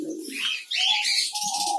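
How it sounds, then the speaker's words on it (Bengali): Pigeons coo inside an aviary in one short, close sequence of soft, throaty calls, with a few brighter chirps mixed in. "এই যে দেখেন অর্ধেক কবুতর কিন্তু এখানে আছে, অর্ধেক কবুতর কিন্তু বাইরে চলে গেছে"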